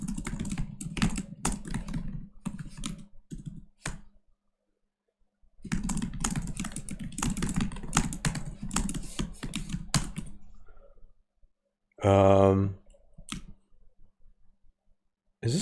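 Bursts of rapid keyboard typing on an unfamiliar computer keyboard during a programming contest, clattering in dense runs separated by pauses, with a short louder click-like burst near the end.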